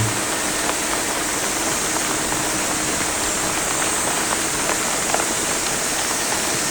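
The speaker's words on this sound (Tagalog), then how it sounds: "Kahit na umuulan ay patuloy pa rin" Steady rain pours down as a constant broadband hiss, with occasional louder drops or patters standing out from the wash.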